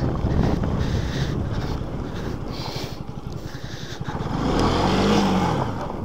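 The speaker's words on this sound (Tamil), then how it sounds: "காற்று வேறு நல்லா அடிக்குது." Strong wind roars across the microphone during a motorcycle ride on the road to Yercaud, a steady loud buffeting rush that swells again near the end, with no talking.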